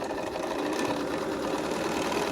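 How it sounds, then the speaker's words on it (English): A sewing machine stitches a quilt seam on a rainbow puzzle quilt, running at a steady, continuous hum with a fine mechanical buzz across the whole stretch and no pauses or talk. "sew to the seam, stop with my needle down"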